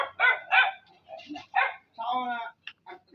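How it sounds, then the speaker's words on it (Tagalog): Several dogs bark in short, loud bursts, with yips mixed in, close by and outdoors, while people talk over and between the barks. "Sino nga ang gano'n kadaming aso?"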